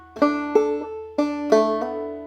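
Plucked clawhammer banjo pickup notes ring out in small clusters, a few bright twangy strikes with sustained tones, played close and alone.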